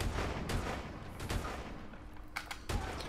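Several gunshots in Call of Duty Advanced Warfare ring out as separate sharp bangs with short echoing tails, spaced irregularly over a few seconds at moderate loudness.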